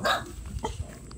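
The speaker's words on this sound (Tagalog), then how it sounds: "may mga aso dito eh" Dogs at a rural Philippine home bark in a few quick, close barks and yips within about a second.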